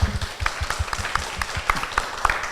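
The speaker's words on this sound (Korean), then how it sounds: "박수 한번 부탁드리겠습니다." A live public-broadcast audience claps for a guest: moderately dense, slightly uneven applause from a crowd nearby, with a few louder individual claps standing out.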